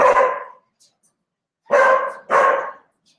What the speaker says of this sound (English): She's barking at Quincy.